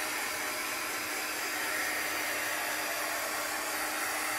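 A craft heat tool blowing hot air, giving a steady, even broadband whoosh up close with no change in pitch or level and no voices.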